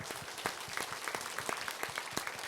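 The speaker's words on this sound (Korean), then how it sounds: "여러분 박수 한번 주세요." Audience applause at an outdoor civic talk show in Suncheon, steady clapping from a crowd sustained throughout with individual claps standing out.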